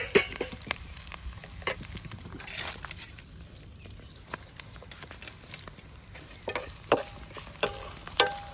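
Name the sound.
tempering frying in a pan for pulihora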